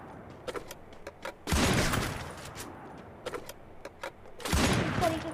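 An M2 gun fires in a video game: scattered sharp single cracks, then two dense, loud bursts of rapid gunfire about three seconds apart, with no speech.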